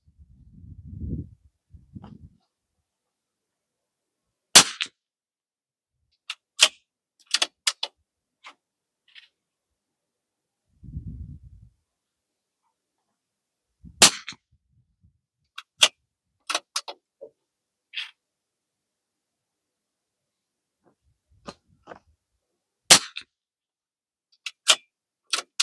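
Rifle shots with Aguila standard velocity rimfire ammunition at a range, a series of sharp, isolated cracks spaced irregularly across a quiet background, interspersed with faint low thumps.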